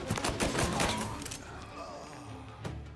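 Revolver shots in the Mafia 1 Remake game crack off in a quick cluster of loud, close bangs near the start, followed by fading echoes and one more sharp shot near the end.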